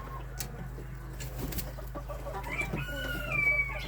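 Birkivska chickens cluck and a rooster calls amid a steady low hum, the bird sounds growing busier and louder toward the end.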